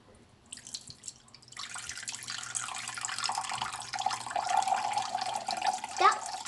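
Water runs steadily from a tap into a measuring cup, starting faintly and swelling into a continuous close splashing stream that holds for several seconds, with voices murmuring in the background.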